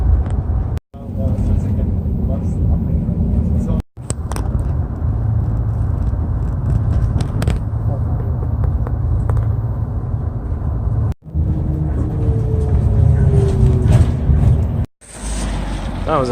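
A bus grinding along a twisty mountain road on Lantau Island, Hong Kong: a loud, continuous engine rumble and road roar inside the cabin, broken by a few brief dropouts.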